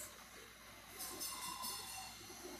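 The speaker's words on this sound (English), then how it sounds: "that train screeching like a freaking TRE train" Model train running at a train show, a faint steady rolling hiss with a thin high screech, brief and quiet.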